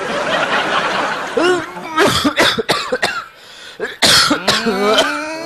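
A man in a comedy sketch coughs several times in harsh, close bursts with strained throat sounds. The coughing is mixed with chuckling and bits of speech and comes in uneven clusters.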